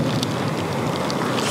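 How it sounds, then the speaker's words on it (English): Heavy rain from a severe thunderstorm pours steadily onto a parked Can-Am Ryker motorcycle and the surrounding ground, a dense, even hiss with scattered sharper drop taps, close and continuous. "Just a posterity view here of the bike getting rained on."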